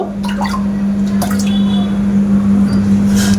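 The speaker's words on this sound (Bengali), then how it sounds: "এবার ওর মধ্যে আমি আর একটু জল দিয়ে দেব" Water is poured into a thick rice paste batter, giving soft wet drips and squishing liquid sounds beneath a steady, prominent hum throughout.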